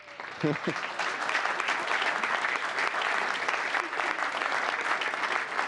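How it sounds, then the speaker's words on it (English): An audience at a town council meeting breaks into a warm round of applause, sustained dense clapping that fills the room, with a brief voice at the start and scattered cheers mixed in. "another big round of applause for Chief Joe Bush"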